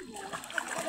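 Children bathing in a river, splashing water in quick irregular bursts close by, with voices talking over the splashes.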